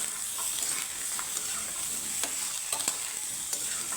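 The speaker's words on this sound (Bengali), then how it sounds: "পটলটাকে আমি সুন্দর করে ভেজে তুলে নেব" Slices of pointed gourd (potol) frying in hot oil in a pan, a steady soft sizzle with occasional stirring scrapes and small pops, close and fairly quiet with no voices.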